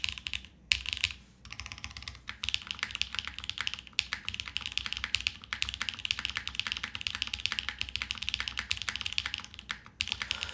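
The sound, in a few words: typing on Vanguard65 keyboard with Doom switches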